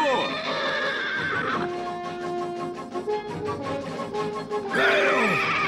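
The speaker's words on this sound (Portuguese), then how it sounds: "Ei, os cavalos estão fugindo! Peguem os cavalos!" Cartoon horses in a Smurfs episode neigh and whinny loudly in long shrill calls, with a brief stretch of clip-clop hooves in the middle as they bolt away, and voices shouting over the commotion.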